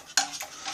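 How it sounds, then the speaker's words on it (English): A utensil stirs and scrapes inside a metal canteen cup, a short close-up clink followed by a brief rasping swirl, quiet and alone. "So we'll give it a bit of a stir around in the old canteen cup."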